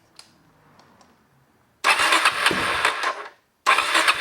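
A Suzuki DRZ400 motorcycle engine catches and roars to a loud rough run, cuts out briefly, then fires again, after a quiet moment of faint handling noises.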